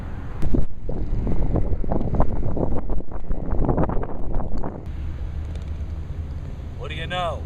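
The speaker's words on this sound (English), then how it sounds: "A little bit of wind here, so you'll probably be hearing that" Wind buffets the microphone on a desert golf course, a loud rumbling gusting roar that eases after a few seconds into a steady softer hiss, with a brief voice near the end.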